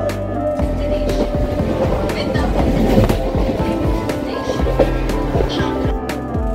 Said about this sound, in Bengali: ট্রেন চলে এলো আন্দুল।